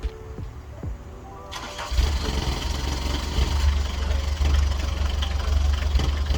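An old car called Bunny cranks with a few clicks and churns before her engine catches on a cool day, then settles into a loud, steady, slightly rough idle close by.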